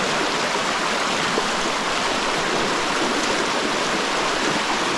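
River water rushing past with a steady, broad, close hiss of flow, constant and loud throughout with no voices over it.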